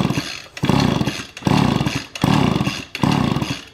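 A string trimmer with a faulty ignition coil and no spark is pulled over repeatedly: about five loud, close, rhythmic cranking bursts with brief gaps between them, and no engine catching.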